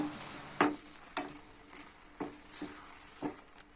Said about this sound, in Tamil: நல்லா கிண்டி விட்டுடுங்க